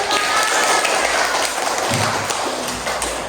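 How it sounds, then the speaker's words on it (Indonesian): Classroom applause for a student group after a presentation during a teaching practice session, a steady broadband patter of clapping filling the room for a few seconds. "Tepuk tangan untuk kelompok 4 yang sudah maju."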